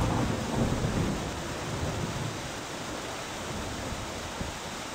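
Heavy rain pours during a thunderstorm in the survival game Escape the Pacific, a dense, steady roar with deep rumbling thunder swelling at the start, without any voices.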